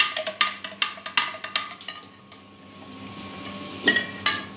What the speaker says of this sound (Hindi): इनको अच्छे से मिक्स करना है ताकि हमने जो सत्तू का पिसा हुआ आटा डाला है वो इसमें उसकी गुठलियाँ ना रह जाए।